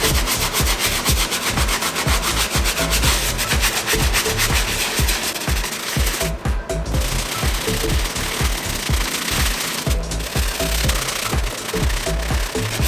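A brush scrubs the soles of an Off-White Jordan 1 sneaker in quick, rhythmic strokes, close and scratchy, with two brief pauses.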